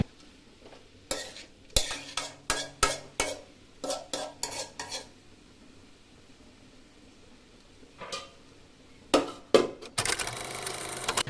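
Spinach thoran being stirred in a pan: rhythmic bursts of spatula scraping and clinking against the metal, then a pause, a few more stirs, and a closing wash of sizzling, with no speech.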